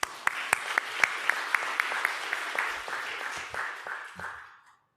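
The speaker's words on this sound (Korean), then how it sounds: "우리 박수로 환영하겠습니다" A church congregation claps to welcome a speaker at Sunday worship, opening with a few sharp distinct claps before swelling into moderate applause that thins and fades out near the end.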